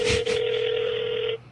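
A telephone dialing a call in a radio studio: a short burst of clicks, then a steady tone held for about a second before cutting off.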